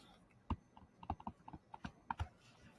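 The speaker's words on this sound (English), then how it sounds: "now all it is just doing some more typing to find the actual interval" Keys on a calculator keypad are tapped in an uneven run of light, close clicks, some quick pairs and some spaced beats, with no talking over them.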